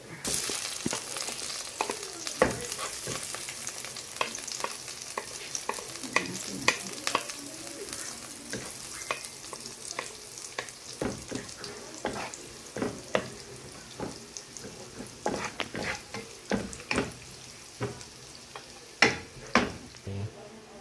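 Garlic and butter sizzle in a pan for chili garlic butter shrimp, a steady frying hiss broken by frequent sharp spatters and pops that grow denser toward the end.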